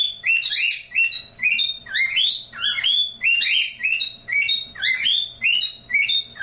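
Synthesized bird chirping from the TempleOS program, made of quick, bright, high tweets in a regular repeating pattern, loud and alone with no speech.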